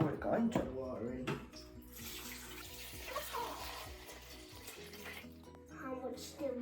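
Water is poured into a Ninja Luxe Café coffee machine at home, trickling and splashing in uneven bursts while people talk nearby.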